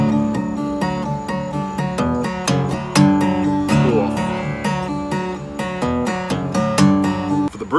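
Acoustic guitar plays the ending of a song's chorus slowly, fingerpicked notes on the top two strings ringing one after another, close and steady with no voice over them.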